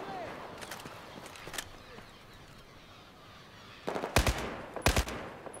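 Gunfire in the video game Battlefield 4 on PC, with scattered shots early on and then two loud, sharp bursts near the end, set over a constant background of game ambience.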